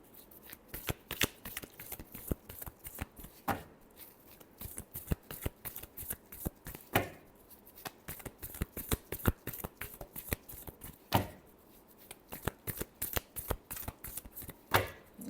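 Tarot cards are shuffled by hand in a long run of crisp, rapid riffles and slaps, close and steady, with brief pauses between rounds.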